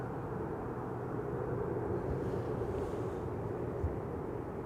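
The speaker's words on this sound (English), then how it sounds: "The next one being TUI flight 381, a 7878 Dreamliner arriving from Willemstad" TUI Boeing 787-8 Dreamliner arriving at Amsterdam Schiphol, a continuous, steady jet roar heard from a distance, broad and even with no clear change in level.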